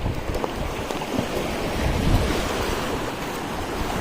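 Sea waves surge onto a Maldives shore and drain back, a steady broadband wash of surf with some wind noise, continuous and fairly close throughout.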